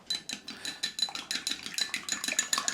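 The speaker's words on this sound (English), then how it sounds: "And give it a whisk." Whisk beating a seasoning mix of salt and MSG for Singapore chow mein in a bowl, a quick steady run of light metallic clicks and scrapes, close and fairly loud, with no talk.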